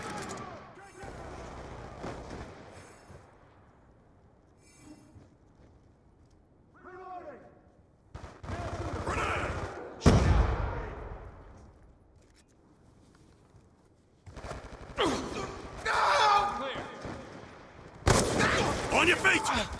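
Sharp gunshots from a sniping video game crack out at intervals among quieter stretches, with louder bursts near the end and a voice talking over the action.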